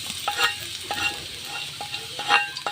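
Bagbag wild flowers being stirred in a pan, with soft sizzling under the repeated scrape and clink of a utensil against the pan, close by and with no talk.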